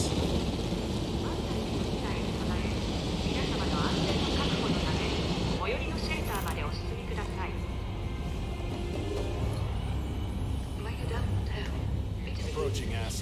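A helicopter in Jurassic World Evolution gives a steady whirring engine drone throughout, partly masked by continuous talking over it.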